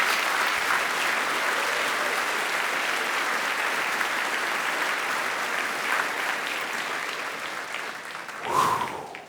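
An audience at a university Hall of Fame induction ceremony gives sustained applause, a dense, even wash of clapping that holds steady for about eight seconds before tapering off. A brief cheer or voice rises near the end.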